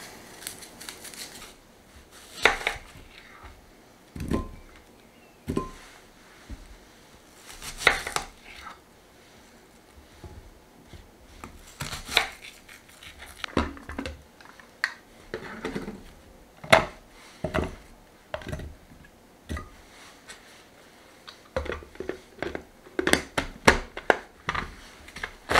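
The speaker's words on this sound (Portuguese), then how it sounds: "vou picá-las ali no meu pequeno processador de Tupperware" Onions chopped in a small Tupperware food processor, a series of sharp, rapid chopping pulses in clustered bursts with short quiet gaps between them, close and fairly loud, with no talking.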